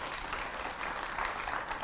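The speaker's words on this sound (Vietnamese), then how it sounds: "Hỏi cho một tràng pháo tay để khích lệ đi." A television studio audience claps steadily and evenly for a couple of seconds, a soft, continuous wash of many hands with no voices over it.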